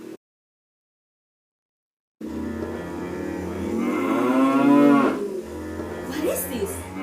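A cow moos loudly and nearby in one long, drawn-out call after a brief silence, followed by some fainter rustling.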